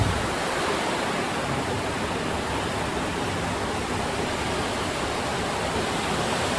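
Loud, steady roar of a river swollen by heavy rain during Super Typhoon Uwan, a dense continuous wash of rushing water with no pauses and no voices.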